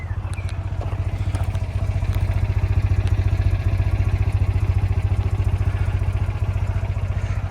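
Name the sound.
Citroën 2CV air-cooled two-cylinder engine running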